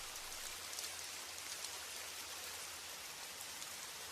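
Steady rain falls in a dense, even hiss, with raindrops pattering on a hard surface. It runs unbroken and quite close, with no voices over it.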